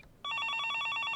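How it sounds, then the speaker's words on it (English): A desk phone's electronic ring in the Higurashi visual novel, a loud warbling trill that starts abruptly after a brief quiet and pulses rapidly and steadily, with no voices over it. "an electronic beeping echoed out of the phone on the desk"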